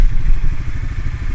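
A Polaris Sportsman 500 ATV engine runs close and loud with a rough, pulsing, clattering chug while it jumps out of gear.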